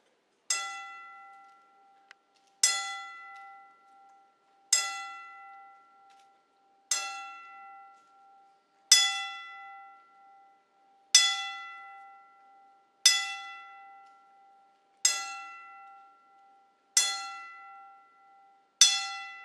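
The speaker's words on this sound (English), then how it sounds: "in memory of Carl Fox, give a 10-bell salute, which is the highest honor you will receive in MMA or boxing" A single bell rings ten evenly spaced strokes for a ten-bell salute at an MMA and boxing event, each clear tone ringing out and fading before the next, with no talk.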